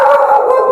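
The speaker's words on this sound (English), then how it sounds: "Shh. No barking." A dog gives a sustained howling, whining bark indoors, loud and continuous for under a second, with no talk over it.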